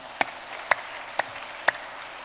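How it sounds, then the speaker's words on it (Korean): Church congregation applauding during a Sunday sermon in Korea: four sparse, evenly spaced single claps, crisp but fairly quiet, heard alone without talk. "박수 한번 좀 쳐봐요"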